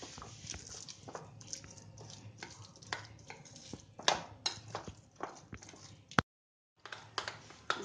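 Thick semolina appam batter being whisked by hand, with quiet, rapid tapping clicks of the utensil against the bowl in an irregular rhythm and a brief cut of silence near the end.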